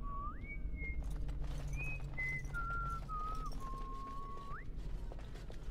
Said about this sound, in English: Okay, the whistling was weird.